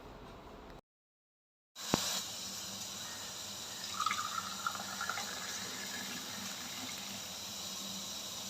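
Hot tea is poured back and forth between vessels to cool it, making a steady close splashing stream with some bubbling, after a short silent gap and a single sharp knock.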